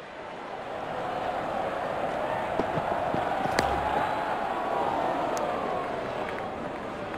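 A crowd murmurs and rumbles steadily at a Nepal versus Netherlands T20 cricket match, a broad distant hum of spectators swelling slightly with a few faint sharp knocks.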